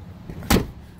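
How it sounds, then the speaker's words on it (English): A single short mechanical thunk of a Nissan Rogue's door locks engaging while the engine runs, a brief sharp clunk heard alone over a low idle rumble. "Likes to lock the doors when it's running."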